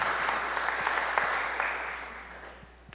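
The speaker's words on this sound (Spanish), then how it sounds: "Denle fuerte aplauso al Señor." Church congregation claps for the Lord, a fairly faint wash of applause from a crowd that gradually dies away over a few seconds.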